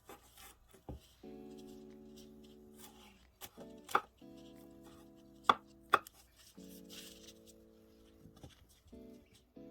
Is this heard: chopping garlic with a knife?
yes